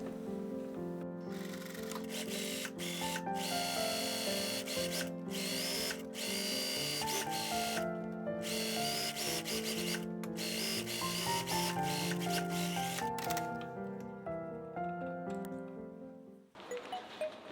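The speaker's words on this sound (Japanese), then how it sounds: "肩紐の端にステッチをかけます。" A sewing machine stitches along the end of a fabric shoulder strap for a shoulder bag, running as a loud, steady mechanical whir with rhythmic needle clatter and brief pauses before stopping near the end.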